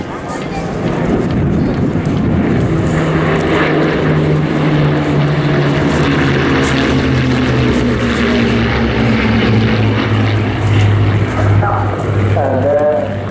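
A Bristol Blenheim flies in formation with Spitfires at an airshow, a loud, steady drone of piston propeller engines that holds throughout, with crowd and commentary voices faintly beneath.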